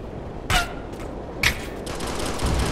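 Gunfire in Operation Flashpoint: Red River: two distant sharp shots followed by a thin stream of rapid fire behind a low combat rumble, no speech.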